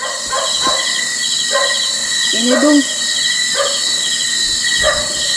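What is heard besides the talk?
dog barking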